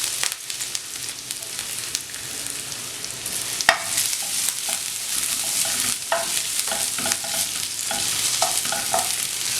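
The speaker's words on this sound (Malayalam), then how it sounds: "ഇതിലേക്ക് ആദ്യം ഇഞ്ചി വെളുത്തുള്ളി ഇട്ട് കൊടുക്കുക." Ginger and garlic hit hot oil in a pan for Kerala-style chilli fish, raising a steady close sizzle, brighter after a clatter partway through, with repeated stirring scrapes and no voices.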